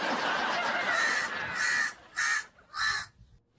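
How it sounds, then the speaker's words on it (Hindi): A crow caws several times close by, harsh rasping calls with the first stretched out long, then three shorter caws spaced with brief gaps, loud and alone. "आज सुबह से ही कौवा बोल रहा है"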